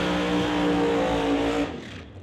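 A nitrous-assisted 1967 Shelby drag car with an 814-cubic-inch engine, heard after its burnout as a loud, close, rough engine drone that holds steady and then drops off near the end.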